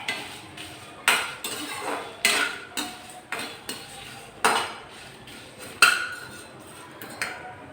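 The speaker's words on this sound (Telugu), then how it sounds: "ఒక 10 వేసి సన్న సెగమైన బాగా దోరగా వేయించుకొని పక్కన పెట్టుకుందాం." Dry red chillies and whole biryani masala spices roasted in a dry pan over low heat, with repeated scraping and clinking strokes of a spatula at an uneven pace over a faint background hiss.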